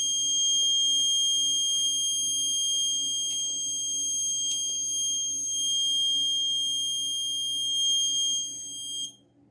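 The alarm buzzer on a Raspberry Pi Pico vehicle tracking system sounds as a continuous piercing high tone held for several seconds before cutting off, loud and close over a quiet background.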